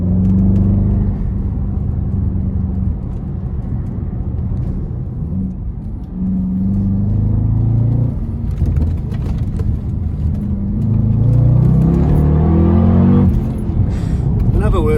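Steady engine hum and road rumble from a lowered car on the move, with the engine note rising and falling and people talking over it.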